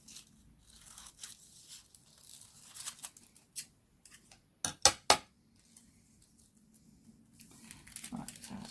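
Scissors snip through foil being trimmed for a handmade card, a few sharp crisp cuts clustered together, close and quiet against a near-silent room, with faint rustling of the foil before and after.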